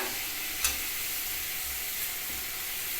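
Chopped ginger and soft onions stirred in hot oil in a pan, giving a steady close sizzle with a faint spatula scrape near the start.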